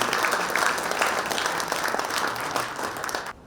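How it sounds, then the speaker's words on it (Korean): Audience applause for a school principal at a school centennial event, a sustained wash of many hands clapping, fairly distant, fading out at the end. "우리 교장 선생님한테 큰 박수 한번 더 부탁드립니다"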